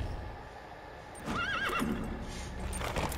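A horse in the video game Metal Gear Solid V neighs once, a clear wavering whinny rising out of low background noise with hoof clopping, and nobody speaking.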